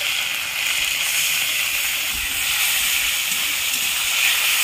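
A soaked paste of red chili powder hits hot oil in a pan for a pointed gourd and moong dal dish, producing a loud, continuous hiss that holds steady throughout, with no voices.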